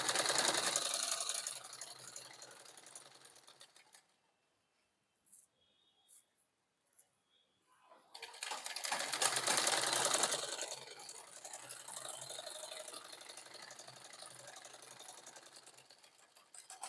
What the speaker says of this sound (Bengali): তাহলে আমরা এইভাবে কিন্তু সেলাইটা করে নিলাম।